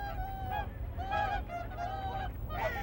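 Swans call at the Nakdong River estuary, loud honking whoops repeated several times from a few birds close by over a low rumble of wind.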